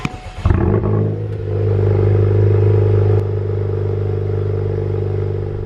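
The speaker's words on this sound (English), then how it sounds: "So inside the car in comfort, which is valve closed, it's smoother sounding." Inside a 2023 Honda Civic Type R with a modified exhaust and its valve closed, the engine blips at first, then settles into a smooth, steady drone that holds loud and close, with no voices.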